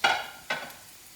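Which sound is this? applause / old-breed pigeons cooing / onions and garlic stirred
onions and garlic stirred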